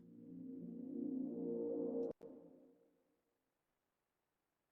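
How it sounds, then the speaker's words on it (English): Sustained low orchestral film-score chord with a short reverb tail, fading out after a sharp click, then silence before a brief noise at the end. "you're going to hear our reverb. I think it's a reasonably short one"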